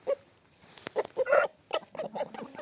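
An angry Indian turkey in a poultry coop gives a run of harsh, gobbling calls, several short bursts close by with brief gaps between them, no one talking.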